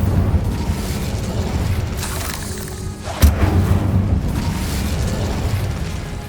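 Incendio fire spells cast in Hogwarts Legacy, a steady rumbling roar of flame and magic with a sharp burst near the middle, loud and continuous with no talk.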